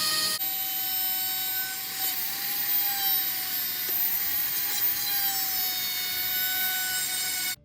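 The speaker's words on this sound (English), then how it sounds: "I took my sanding block just to get the edges smoothed down" Continuous scratchy rubbing of a sanding block smoothing the edges of craft ice cream scoops, steady and close for several seconds, with a faint high whine behind it.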